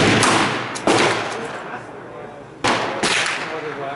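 Revolver shots from a Korth handgun crack at a shooting range, two pairs of sharp, loud reports with decaying echoes between them.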